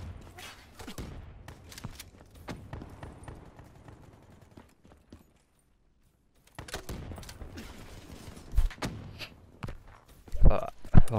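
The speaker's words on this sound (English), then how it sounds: "That shotgun should not have that range. It fires buckshot. Yes, it's rapid fire." A rapid-fire shotgun firing buckshot in a video game lets off bursts of sharp shots, fairly faint, in two clusters separated by a brief silent gap.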